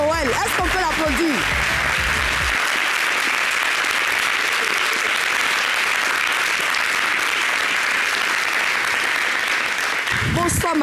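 Studio audience at an evening talk show in Côte d'Ivoire breaks into sustained, dense applause that fills the whole stretch, with a host's voice briefly at the start and end.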